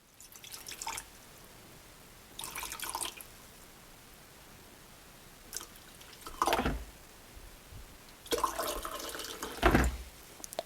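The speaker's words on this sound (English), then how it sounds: "let's test out the good old function of pouring water and see how well it pours" Water pours from a Swan smart electric kettle in several short bursts separated by quiet pauses, each a soft splashing trickle close by, the last pour slightly louder.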